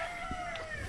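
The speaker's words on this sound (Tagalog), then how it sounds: "Yun ang mga inahin natin." A hen gives a brief cluck over a steady background hum, nearby but not loud.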